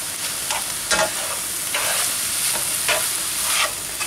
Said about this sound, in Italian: Mettiamo un po' di germogli di soia, un po' vanno dentro che vanno cotti